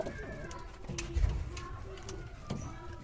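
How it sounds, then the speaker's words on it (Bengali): Pet pigeons coo at close range in a home coop, several soft repeated calls overlapping against faint background noise and a few light knocks. "আমার প্রায় 8 জোড়া কবুতর।"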